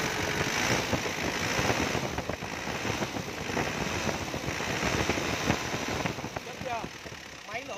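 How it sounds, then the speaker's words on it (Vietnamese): An Isuzu Hi-Lander 2.5 turbo diesel engine runs at a steady rumbling idle close by, with someone talking over it and some wind buffeting the microphone. "Máy nổ cực kỳ là chắc chắn luôn."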